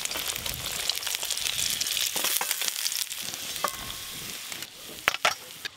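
Katla fish pieces fry in a pan with a steady, close sizzle and crackle, with scraping stirs and a few sharp clicks and spatters near the end.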